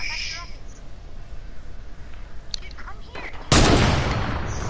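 A mounted turret in a video game opens up in a sudden, loud, sustained burst of rapid gunfire late in the moment, after quieter game ambience and scattered voices talking.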